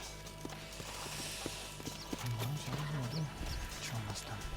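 Horses' hooves clip-clop at a walking pace in the Western video game Red Dead Redemption, steady irregular hoof falls set against a constant bed of ambient noise and low tonal music.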